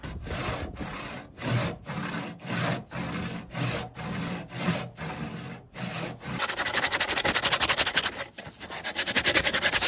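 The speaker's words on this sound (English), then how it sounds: "I might need to cut that kerf down to probably this mark right here" A handsaw cuts a kerf into a wooden axe handle with steady back-and-forth strokes, close and loud, the rasping speeding up and growing louder toward the end.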